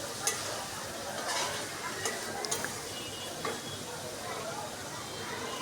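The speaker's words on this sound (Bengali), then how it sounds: "এখন আমি ঢেকে এই মশলাটা খুব ভালো করে কষিয়ে নেব" Masala for a salty hilsa fish curry sautéing in oil in a covered pan, giving a steady soft sizzle with a few faint ticks and scrapes as it cooks, at moderate distance.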